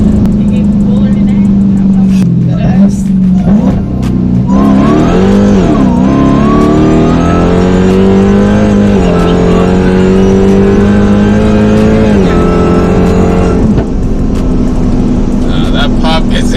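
A 1000-horsepower Dodge Hellcat accelerating hard from close inside the cabin, its engine roar rising in pitch through the gears before easing off, with people talking and reacting loudly over it.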